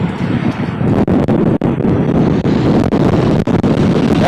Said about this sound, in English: the wind should be blowing up against the mic as it is right now